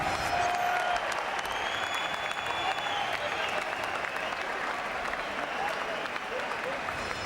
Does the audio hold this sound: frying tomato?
no